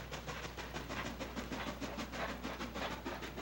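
A westbound passenger train rolls past with a steady rhythmic clickety-clack of wheels over rail joints under a constant low rumble, fairly distant and moderately quiet.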